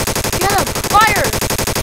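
Rapid automatic gunfire from a video game war roleplay rattles in a fast, loud, continuous burst, with raised voices calling out over it.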